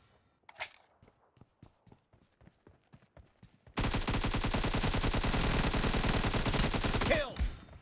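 PUBG Mobile gunfire: a few scattered shots and soft steps, then a loud, continuous burst of rapid automatic fire lasting several seconds before it cuts off.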